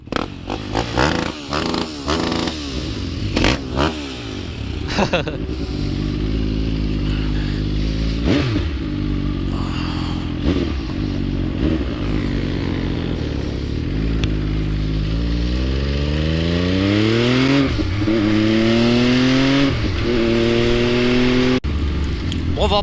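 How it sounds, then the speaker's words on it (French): A motorcycle on a supermoto ride revs hard and repeatedly, with rapid machine-gun style backfire crackles early on, then sustained loud engine drone rising in pitch as it accelerates, close and dominant throughout. "Fais un petit coup de mitraillette, Gauthier"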